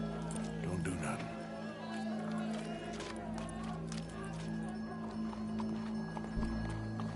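Horse hooves clop steadily in a PS4 video game, close and continuous beneath crowd murmur, game music and voices talking.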